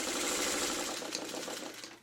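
A sewing machine stitching quilt blocks runs in a steady rapid whir close by, holding fairly even before tapering off near the end, with no voices.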